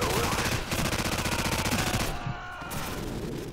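Heavy machine gun fire in the video game Modern Warfare: a long, rapid, continuous burst of loud shots, briefly thinning near the end before resuming, with no talk.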